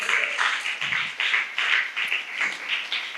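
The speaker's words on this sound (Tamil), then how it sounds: "கைத்தட்டுங்க பார்க்கலாம்." Audience clapping during a Tamil fasting prayer service, a rhythmic run of close, loud claps repeating in regular bursts with no speech over them.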